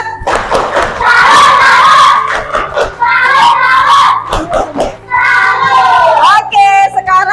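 Primary schoolchildren in a fifth-grade class give a salute clap, a loud burst of rhythmic group clapping and thumping mixed with children's shouting and voices.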